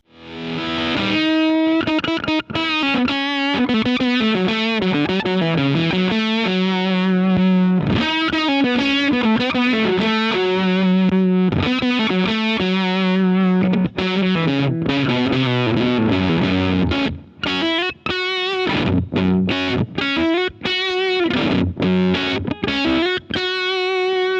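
Heavily distorted, fuzzy guitar notes through a TEFI Vintage Lab Gegé germanium fuzz pedal play a riff, harsh and buzzy like a blown speaker, loud and continuous with brief gaps near the end.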